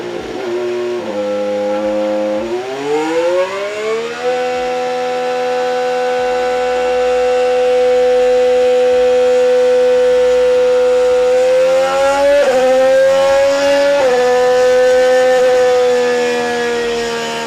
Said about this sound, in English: Mercedes just dropped their 2026 engine sound teaser